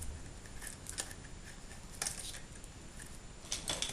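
Scissors snip through a twisted bread twist tie, giving several crisp, short clicks spaced about a second apart, close and quiet over steady background hiss.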